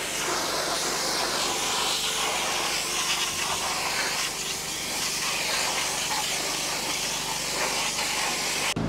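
A loud, steady hiss of pressurized water spraying cleaner off car wheel rims runs continuously, close up, with no talking.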